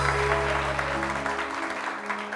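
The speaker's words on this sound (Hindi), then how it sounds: "कनान के लिए बहुत सारी तालियां" A studio audience claps for a guest on a television talk show. The applause is steady and moderately loud over a constant low electrical hum.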